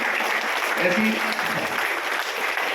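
Applause from an indoor audience greeting a divisional railway manager at a formal gathering, a steady dense clatter of clapping hands that fills the whole stretch at moderate level with a faint voice mixed in.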